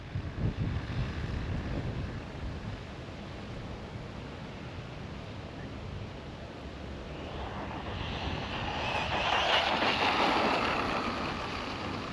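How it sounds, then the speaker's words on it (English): Wind gusting outdoors on a windy day at a sand-bashing spot for a remote-control car, a steady low rumble buffeting the microphone that swells louder toward the end, with no talking. "It's a little windy today."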